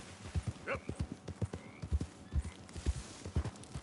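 A horse's hooves clip-clop steadily in Red Dead Redemption 2, with a short whinny early on, close and rhythmic while a person talks over the game.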